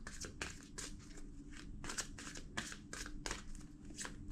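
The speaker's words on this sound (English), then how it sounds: "2 more shuffles" Tarot cards being shuffled by hand, a quick run of crisp riffling bursts repeating in an uneven rhythm, close and fairly quiet with no talking.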